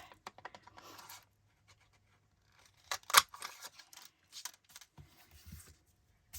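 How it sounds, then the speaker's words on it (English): Scissors snipping paper hexagons for a flower craft, a series of close, crisp cuts and rustles in bursts with short pauses, loudest in the middle. "Get a couple hexagons cut out."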